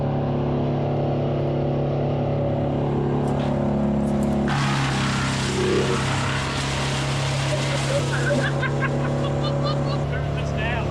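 A petrol engine powers a wood chipper, droning loud and steady up close, then grinding material surges in as a broad roar partway through, and people talk over it.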